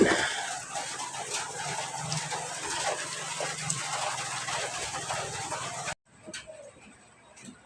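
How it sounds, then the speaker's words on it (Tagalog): Steady rain pours and gushes for about six seconds, a dense hiss with occasional louder spatters, then cuts to quieter scattered drips and faint sounds. "Ulan."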